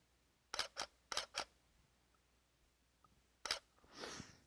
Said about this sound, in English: I hold the shutter button down